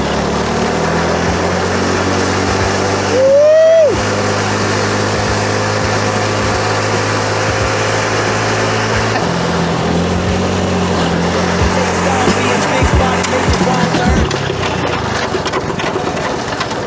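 A go-kart engine roars steadily through a top-speed run, its droning tone holding then shifting pitch partway through, with a brief whine rising and falling near the start.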